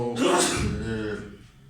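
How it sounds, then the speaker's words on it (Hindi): A man sneezes loudly and close by in a workshop where detergent powder is mixed from sulfuric acid, salt and soda ash, one strong burst fading into a breathy tail. "साथ साथ छींके भी मार रहे हैं"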